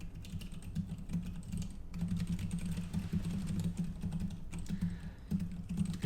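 Rapid typing on a computer keyboard while writing code, a dense, continuous run of close, quiet key clicks and clacks with brief pauses.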